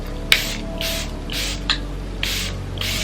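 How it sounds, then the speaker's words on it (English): Four or five short hissing spray bursts of Charlotte Tilbury makeup setting spray, evenly spaced about every half second, close and fairly loud over a low steady hum. "This is the Charlotte Tilbury spray."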